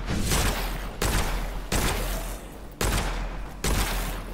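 Loud, sustained bursts of rapid gunfire from a new weapon in Witchfire, a dark fantasy shooter, come in several long volleys separated by brief gaps.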